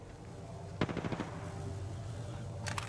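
Rapid bursts of automatic gunfire in Apex Legends, a quick volley of clustered shots near the start followed by ambient game noise and a short second burst at the end.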